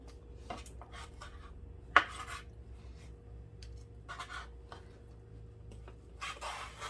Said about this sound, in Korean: 소고기는 바로 꺼내서 드시기 좋게 썰 거예요.